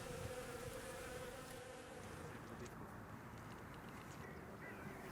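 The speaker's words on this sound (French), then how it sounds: "Les abeilles s'agitent, mais dès que la ruche est refermée" Honeybees buzz steadily around an opened hive, a dense continuous drone close by with no pauses, alone without talk.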